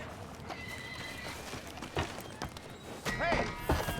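A horse in the Red Dead Redemption 2 video game gives a whinny over a rapid clip-clop of hooves, with sharper hoof hits and another neigh near the end.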